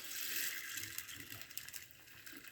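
A small amount of water poured in while mixing with calcium and lime remover, a close, soft trickling gush with faint clicks, steady at first and then tapering.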